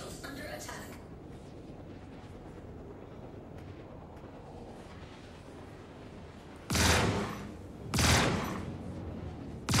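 Two heavy bursts of gunfire strike a ship's shield in Star Citizen, each one a loud, harsh blast lasting about a second, over a constant low rumble of ship noise.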